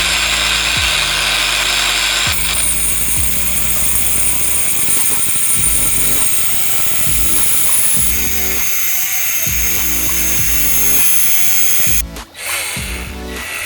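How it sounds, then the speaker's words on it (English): An oscillating multi-tool converted into an electric lock pick gun gives a loud, continuous, high-pitched buzz with rapid rhythmic ticking. It runs for about twelve seconds, then briefly cuts out and starts again. "turn your oscillating multi-tool, just like this one here, into an electric pick gun"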